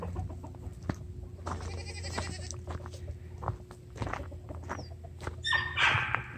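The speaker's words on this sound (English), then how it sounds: "The other one's starting to sound more like a little bit of a light gobble." A young farm turkey gives short, light gobbling calls, two main bursts a few seconds apart, moderately close over faint barnyard background noise.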